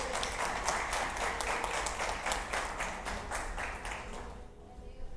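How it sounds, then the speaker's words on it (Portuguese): A church congregation claps for Jesus during a service, scattered overlapping handclaps with faint talk underneath, gradually thinning out toward the end. "Você pode aplaudir o Senhor Jesus?"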